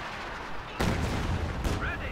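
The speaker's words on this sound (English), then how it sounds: "Howitzer barrage going over here." Howitzer artillery barrage in a video game: two sharp, booming shots about a second apart rise over a steady background hum, fairly loud and close.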